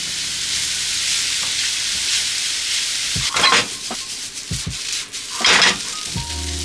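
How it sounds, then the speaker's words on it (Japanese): Steady, loud sizzling of onions stir-frying in a pan, with a few scraping stirs and clatters of a utensil against the pan partway through. "まず、同じようにね、炒めていきます。"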